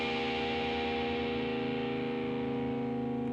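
A C dominant 7th sharp 9th chord strummed on a Wildcat electric guitar rings out through distortion and effects, one sustained bluesy chord slowly decaying with no talk.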